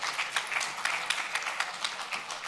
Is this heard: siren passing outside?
no